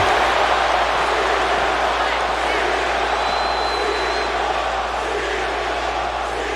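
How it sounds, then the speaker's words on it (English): Arena crowd at a WWE Backlash wrestling event in Miami's American Airlines Arena chanting, a loud, dense, echoing roar that sustains throughout under a commentator talking. "The chants echoing through the American Airlines Arena."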